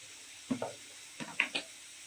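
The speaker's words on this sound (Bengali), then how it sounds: "এক চুলায় ঢেঁড়স এবং ভিন্ডি হচ্ছে, আর এক চুলায় বাজিটা বসাই দিচ্ছি।" Okra sizzles softly in a pan on a stovetop burner, a faint steady hiss broken by a few short clinks and stirring scrapes.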